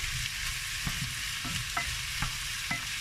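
Bacon lardons with garlic sizzling in a frying pan, a constant close crackle broken by several soft clicks and scrapes of stirring.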